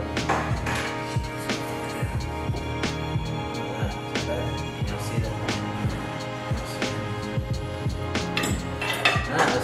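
Knife and fork scrape and clink against a plate while cutting into a cooked T-bone steak indoors, with steady close-up metallic tapping throughout.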